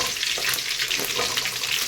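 Fish frying in hot oil in a pan, a loud, steady crackling sizzle with bursts of spitting throughout.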